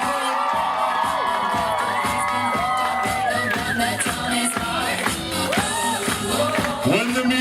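At a hypnotist show, an audience screams, whoops and shouts loudly over pulsing pop music, excited voices rising and falling in a continuous, chaotic din.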